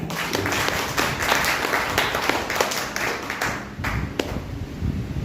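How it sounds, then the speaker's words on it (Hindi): Loud, sustained applause from an audience at a gathering, dense clapping continuing steadily with a few sharper claps standing out, a faint voice or two under the noise. "उनको बुलाने से पहले मैं चाहूंगा एक बार जोरदार तालियां हो जाए"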